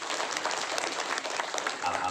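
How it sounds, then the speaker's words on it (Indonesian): Audience at a Sundanese Islamic religious gathering applauding for Islamic boarding school students: dense, steady clapping throughout the short stretch, fairly loud and close, with some voices mixed in. "tepuk tangan untuk santri"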